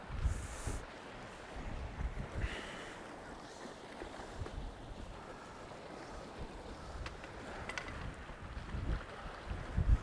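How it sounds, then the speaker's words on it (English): Strong wind buffets the microphone on an east coast beach, a steady rough rumble with gusty swells and faint surf behind it, no voices heard. "the wind's that bloody strong"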